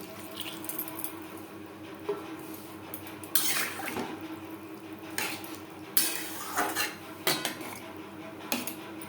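A bowl that held lentil paste is rinsed and the water added to a potato and pointed gourd curry: quiet clinks of bowl and utensils against a pot with soft splashing, close and intermittent, no voices.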